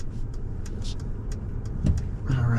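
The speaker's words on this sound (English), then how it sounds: "Wide open throttle, that's full rip. Plenty of acceleration." A Mercedes eSprinter electric van accelerating at full throttle on a high-elevation paved mountain road, a steady close cabin rumble with a faint motor whine rising near the end, a brief voice in the background.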